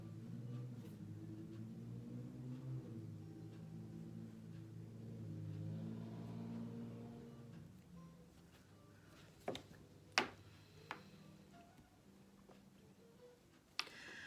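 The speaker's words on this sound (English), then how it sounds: "There is a lot of traffic right now." Passing road traffic, a car engine rumbling and revving past at moderate distance before fading, followed by a few sharp ticks and clicks close by.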